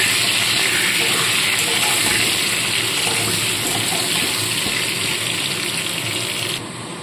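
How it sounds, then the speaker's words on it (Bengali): Sliced potatoes with salt and turmeric frying in hot oil in a Bengali kitchen, a steady close, loud broadband sizzle and crackle with no talking. "আলুগুলোকেও পুরো লাল লাল করে ভেজে তুলে নেব।"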